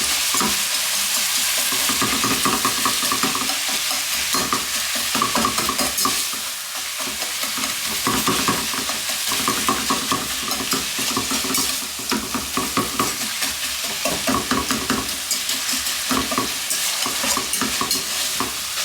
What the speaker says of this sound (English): I like to use a whisk to help break this up